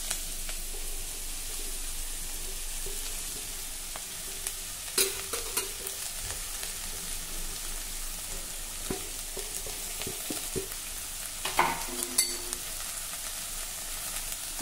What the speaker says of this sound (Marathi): हा पालक आपण थोडं परतवून घेऊ